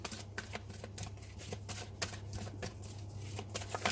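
Tarot cards being shuffled and drawn make a quick, soft, rhythmic run of papery riffles and flicks, close up and fairly quiet, with no talking.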